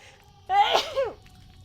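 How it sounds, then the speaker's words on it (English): A single sharp sneeze, close and clear, with a quick voiced burst over quiet background. "I sneeze."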